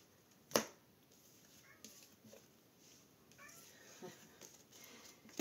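A single short cat meow near the start, fairly close, followed by quiet room sounds and faint shuffling.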